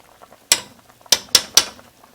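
A spoon knocks and scrapes in a pot as curry powder is stirred into Jamaican curry chicken, four sharp, close clacks in quick succession with a few faint scrapes between them.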